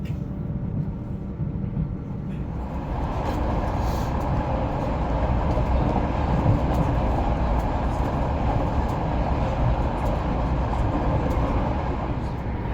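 A Southeastern Class 375 Electrostar electric train running out of Sevenoaks, heard from inside the carriage as a steady low rumble and rolling hum that swells after a couple of seconds and holds on, with no voices.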